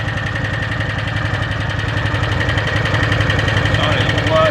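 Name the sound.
engine ticking noise of 2013 Arctic Cat Wildcat 1000 H.O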